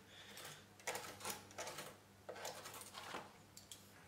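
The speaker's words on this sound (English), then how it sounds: "Just scrape it off with the knife." Knife blade scraping styrofoam off a model plane wing, several short rasping strokes in bursts at close range, quiet and dry, with low background hum.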